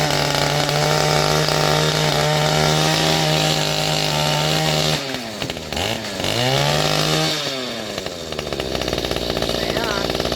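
The small two-stroke engine of a Mantis tiller runs loud and close after a carburetor diaphragm replacement, buzzing steadily, then bogging and revving unevenly before settling back into a steady drone.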